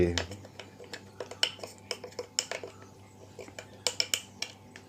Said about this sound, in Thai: ทำการผสม คนส่วนผสมให้เข้ากันเลย